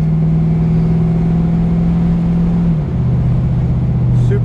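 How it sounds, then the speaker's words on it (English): A 1971 Chevrolet Camaro with a smooth factory-style shift kit drones steadily from inside while driving, its engine note dropping cleanly as it shifts gears, loud and continuous with no talking. "I believe it's got just a factory style shift kit in it, so it's a very smooth shift"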